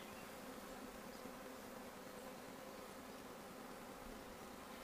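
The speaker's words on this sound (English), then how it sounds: "the bees in the basket will start fanning" Bees fanning in a basket just after a cast swarm was captured give off a steady, dense hum that fills the whole stretch, faint and continuous with no talk over it.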